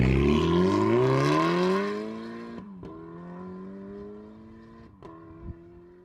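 A 260bhp Seat Ibiza Bocanegra pulls away with a loud engine that climbs through a rising rev, then settles into a steadier drone as it recedes, with a couple of sharp clicks or gear shifts along the way.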